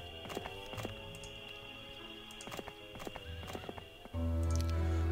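Horse hooves clip-clop at a walking pace in the strategy game Heroes of Might and Magic III, with crisp repeated hoof strikes over soft background music that swells near the end.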